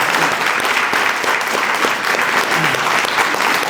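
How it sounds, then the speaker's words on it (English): Steady applause from an audience at an initiation ceremony, many hands clapping in a continuous, even wash with scattered sharper claps, moderately loud and free of talk. "A round of applause for everybody."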